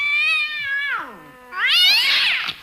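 Two drawn-out, ornery cat meows, the second louder and more strained, played alone as a radio-show 'Cash Kitty' sound effect.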